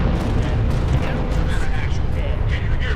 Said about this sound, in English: Oh, big another Savannah amazing explosion.